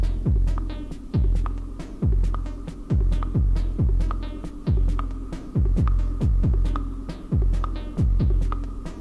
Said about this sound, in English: Vintage verb sounds so good.